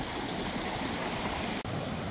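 Grouse Creek runs steadily through the Colorado mountains, a close, continuous rush of clear flowing water with no voices, broken only by one brief dip near the end.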